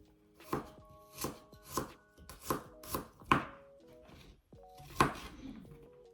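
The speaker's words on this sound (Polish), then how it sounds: "Czosnek kroję tylko na plastry." A knife slices garlic cloves on a cutting board in a series of crisp, evenly spaced chops, about eight strokes, close and clear with a short pause near the end.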